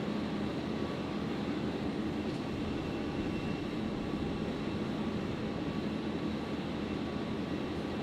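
Airbus A350-900 airliner taxiing at Brisbane airport at dusk, a steady distant engine rumble and broad whine that holds evenly throughout without change.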